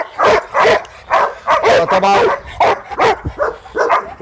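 Large Caucasian shepherd dogs bark repeatedly in quick, loud bursts nearby, with someone speaking briefly between the barks.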